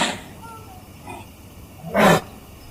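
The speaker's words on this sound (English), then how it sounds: "Cassowary." A cassowary calls in a few short, rough rumbling bursts, with the loudest and deepest boom coming near the end of the brief clip.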